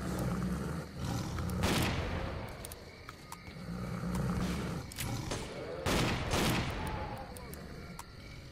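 A shotgun, a pocket cannon, fires in a Ukrainian video game, giving a few loud booming blasts with long roaring decays and some quieter game noise in between.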